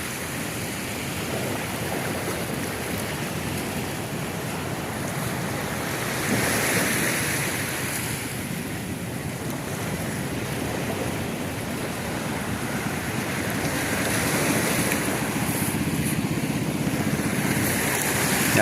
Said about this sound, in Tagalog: Sa lakas ng baha.